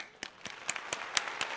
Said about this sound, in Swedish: vi applåderar allihopa